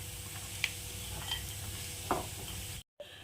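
Coconut pieces frying in ghee give a faint, quiet sizzle, broken by a few sharp spoon scrapes and taps against the pan.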